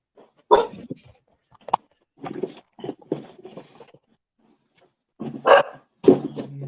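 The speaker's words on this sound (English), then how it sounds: "Now my dogs are going ape shit." Several dogs bark in sharp, scattered bursts, some single and some in quick clusters, with a pause in the middle before a louder run of barks near the end; there is no talking over them.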